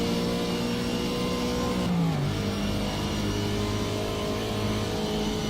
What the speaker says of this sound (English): No, I don't think I'm revving it to the full rev range.